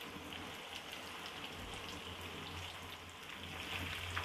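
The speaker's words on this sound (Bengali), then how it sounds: "চিকেনগুলোকে আমি 8 থেকে 10 মিনিটের মতো ভেজে নিব।" Chicken pieces frying lightly in oil in a pan give a soft, continuous sizzle, steady and fairly faint, with no voices over it.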